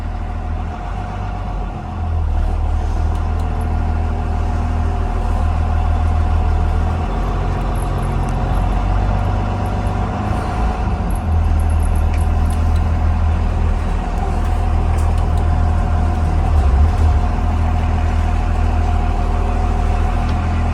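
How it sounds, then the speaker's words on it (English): A bus engine rumbles loud and steady as the bus is driven around a lot, a constant deep drone that swells slightly after the first couple of seconds, with no voices. "Move this bus up so I can show you the back of it again."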